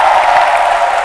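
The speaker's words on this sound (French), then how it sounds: "Chaleureux public, applaudissez-vous s'il vous plaît" A warm studio audience at a French-language midday TV show bursts into loud, dense clapping and crowd noise, a brief continuous roar with no one speaking over it.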